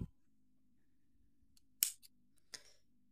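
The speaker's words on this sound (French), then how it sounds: "Alors moi, je vais couper mon fil." Scissors snip through yarn during crochet work on a baby sweater: a couple of sharp, close cuts against a quiet background.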